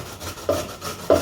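Tender bottle gourd scraped across a large kitchen grater, two short rasping strokes about half a second apart, close and moderately quiet, with no voices.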